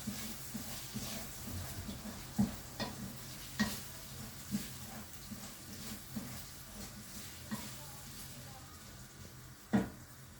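Rice toasting in oil and butter in a pot, a low steady sizzle and hiss with occasional scraping stirs of a spoon against the pot, quiet and close, with a voice speaking faintly now and then.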